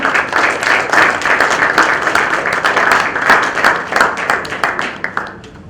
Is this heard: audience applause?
yes